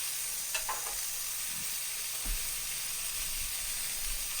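Burgers seasoned with onion soup mix sizzle on a grill in a constant hiss, with a few soft taps of a utensil and no talking.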